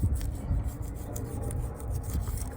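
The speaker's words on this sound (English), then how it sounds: "now if you have a scraper, you can try to clean" A hand scraper rasps over an old gasket surface on a 2014 Chrysler 200 V6 engine, quick repeated scraping strokes close up with no talk.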